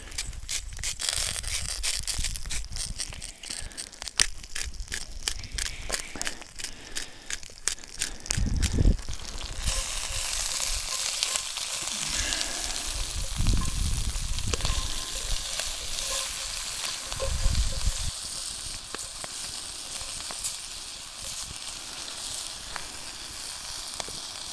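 Food sizzling in olive oil in a cast iron pan over a campfire's flames in the remote desert, a steady crackling hiss with scattered pops and stirring scrapes, close and fairly loud throughout.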